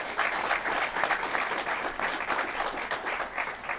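An audience at a local development project announcement gives a round of applause, a steady, dense clatter of many hands clapping that fills the space without letting up.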